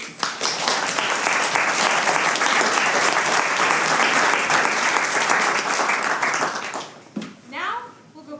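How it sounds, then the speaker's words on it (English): A school theatre audience gives a sustained round of applause during a performance of 'Our Town', dense clapping for about seven seconds before it thins out and a voice begins speaking. "Round of applause, please."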